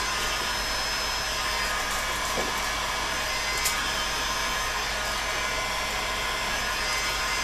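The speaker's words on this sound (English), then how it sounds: "So let's take the hot heat gun." A heat gun blows hot air onto glue during the build of a Viking bow, making a steady, even, fairly faint airflow whoosh with a fan hum and only slight clicks throughout.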